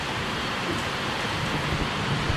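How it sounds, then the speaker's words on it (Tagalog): Heavy rain pours down in a dense, continuous roar of hiss and patter, steady and loud without any voices. "Sobrang lakas na ulan."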